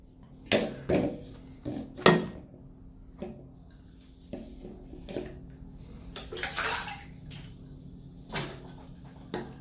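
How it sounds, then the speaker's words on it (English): Shrimp being rinsed in a kitchen for Sicilian shrimp scampi, with short bursts of running water and splashing alongside clattering dishes and handling knocks, fairly close and moderately loud with quiet gaps between. "we're going to go rinse off our shrimp a little bit"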